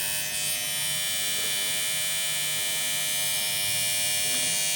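An INKin Flexo adjustable-stroke tattoo machine runs steadily, a loud, close, constant high-pitched electric buzz with a mains-like hum and no break, and no voices.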